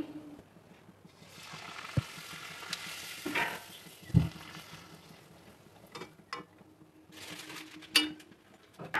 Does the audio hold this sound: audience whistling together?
no